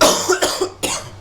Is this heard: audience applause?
no